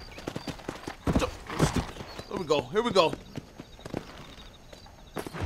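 Horse hooves clip-clop in steady rhythm through the Western setting of Red Dead Redemption, close and moderately loud, with a whinny-like sound and voices talking over the hoofbeats.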